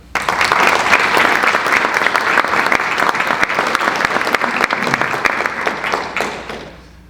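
An audience at a school board candidate forum applauds steadily to welcome a speaker, dense clapping holding for several seconds before tapering off.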